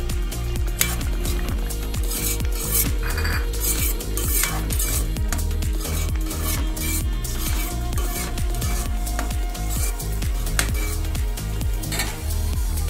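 Pre-fried potatoes tipped into a pan of pea curry gravy and stirred, with dense clattering of a spoon against the pan and a faint sizzle underneath, close and busy for the whole stretch.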